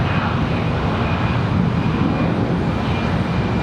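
An Airbus A319 jet departs from Charlotte Douglas International Airport with a loud, steady engine roar that fills the whole stretch without letting up.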